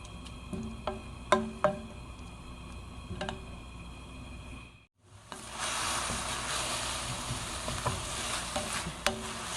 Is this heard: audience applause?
no